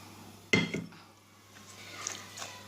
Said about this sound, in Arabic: نخلط المقادير كاع مع بعض